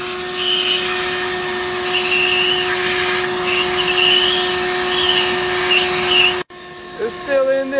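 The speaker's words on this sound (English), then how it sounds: "We're gonna have to vacuum these things out." A vacuum cleaner sucks living bugs out of a dirty Android phone, a steady loud close whine with a tonal hum running throughout, briefly cutting out near the end before resuming.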